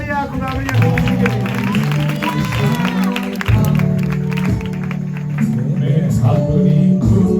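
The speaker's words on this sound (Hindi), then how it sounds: "जोरदार तालियां खुदावन के लिए।" A church congregation claps loudly during an online worship service, the dense clapping running over live music with deep bass and a sung voice.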